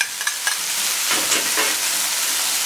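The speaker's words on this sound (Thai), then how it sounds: "ผักบุ้งสลดแล้วเราก็จะใส่ ปลากระป๋องครับ" Morning glory stir-fried in a pan with canned fish, a loud continuous sizzle and hiss up close, with a few scraping clatters of a spatula at the start.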